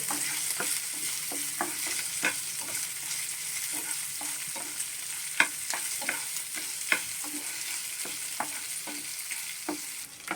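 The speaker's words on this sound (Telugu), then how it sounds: "పచ్చిమిర్చి కూడా లైట్గా వేయించాలి" Green chilies frying lightly in oil in a pan for a yogurt vada tempering, a steady soft sizzle with frequent sharp pops and the scrape of stirring, close and moderate in volume.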